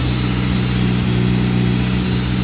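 A Suzuki Samurai fitted with a swapped 1.6L 16V engine idles steadily up close, a low, even drone that holds throughout with no revving or speech.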